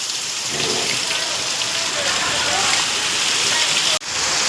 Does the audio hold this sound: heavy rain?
yes